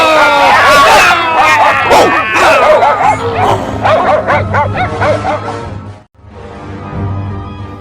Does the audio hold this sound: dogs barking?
yes